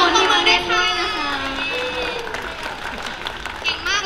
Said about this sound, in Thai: ขอเสียงปรบมือได้ค่ะ